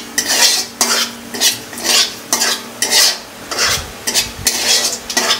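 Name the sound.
bay leaves and cumin seeds being stirred in hot oil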